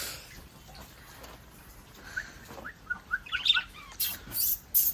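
Pet lovebirds give short, sparse chirps and tweets beside a birdhouse, growing busier toward the end over faint background noise.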